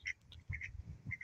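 A domestic duck quacks in a few short, close bursts while being fed rice, with no talking in between.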